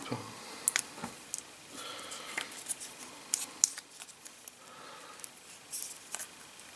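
Opening the packaging of an X-Wing V2 model kit box brings faint, scattered clicks, crinkles and light plastic taps at irregular intervals, quiet and close, with no talk.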